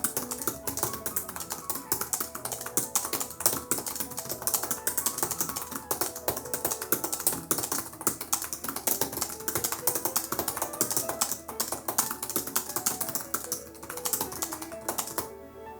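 Rapid, continuous clatter of keys on a detached Surface Pro Bluetooth keyboard, loud and close, with dense irregular taps throughout and no talking.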